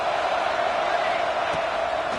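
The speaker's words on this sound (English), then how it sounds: "It's early, but this crowd is fired up. Listen to this noise here." A college football stadium crowd keeps up a dense, loud, continuous roar of cheering and yelling, steady throughout with no break.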